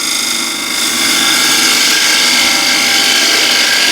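A gouge cuts into a wooden bowl spinning on a lathe, producing a loud, steady, hissing scrape with a bright whirring tone that holds evenly throughout.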